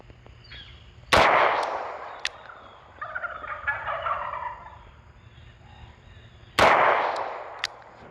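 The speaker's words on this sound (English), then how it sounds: "I'm gonna shoot at that lower left. I'm gonna do it in single action." Two sharp, loud gunshots from a Korth Mongoose 2.75-inch Carry Special .357 Magnum revolver fired in single action, spaced about five seconds apart, each with a ringing decay, and some quieter handling noise between them.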